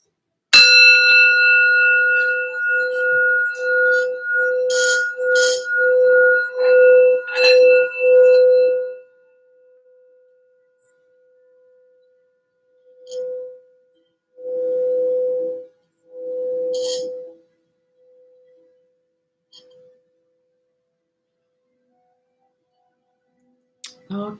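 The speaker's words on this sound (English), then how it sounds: "we're going to do a quick little sound bell here for some healing and grounding" A meditation bell struck for healing and grounding before a tarot reading rings out in a long, clear tone, followed by several softer repeated strikes that fade into quiet; no talking.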